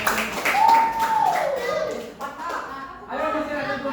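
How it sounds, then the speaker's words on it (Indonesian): Classroom clapping for a student group, brief patters of hands amid children's chatter and a voice speaking. "Kasih tepuk tangan untuk kelompok."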